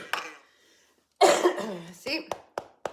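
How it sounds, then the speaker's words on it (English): A person coughs, a short harsh burst followed by a few smaller throat sounds, close and fairly loud, with a little speech-like voicing nearby. "Still got the cough."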